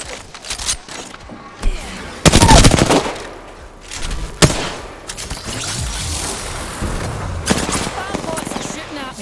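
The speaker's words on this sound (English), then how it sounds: "Spam bots are shooting at me." Bots fire at the player in an Apex Legends match, loud rapid bursts of game gunfire with a heavy impact near the start, mixed with in-game effects while someone talks over the action.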